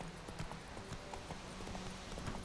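Horse hooves clip-clopping at a steady trot in The Witcher 3, a continuous rhythmic beat of soft thuds over a dense, noisy outdoor background, with no speech.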